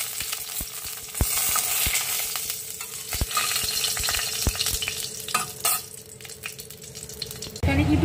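Panch phoron and dried red chillies sizzle and crackle in hot oil for a Bengali pumpkin and eggplant ghonto, a steady close frying hiss broken by sharp pops and stirring clinks, with a low hum underneath.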